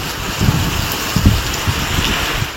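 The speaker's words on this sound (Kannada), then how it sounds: "ಬೆಂಗಳೂರಲ್ಲಿ ವರ್ಷದ ಮೊದಲ ಮಳೆಯ ಅಬ್ಬರ" Heavy first rain of the year pouring down in Bengaluru, a loud dense downpour with low rumbling gusts and thuds rising and falling throughout, no voices.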